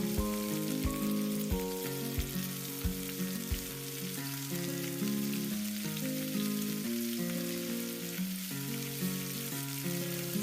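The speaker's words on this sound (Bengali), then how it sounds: "বাতাসার মতো গোল গোল করে চামচ দিয়ে একটা একটা করে চারিদিকে ঢাকনা দিয়ে ভেজে নেব" Batasa pitha batter frying in oil in a covered pan, a continuous close sizzle and crackle running steadily, with a low tonal hum and rhythmic tones underneath.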